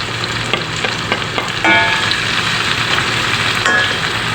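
Ginger sizzling hard in hot oil for chicken curry, a loud, steady close-up crackle and hiss with the occasional stir, and no talking.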